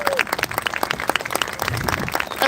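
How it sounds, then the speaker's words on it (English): A crowd at the Oregon International Air Show applauds the event's volunteers, giving a burst of scattered clapping, fairly close, with an announcer's voice partly over it. "Let's give them a huge round of applause."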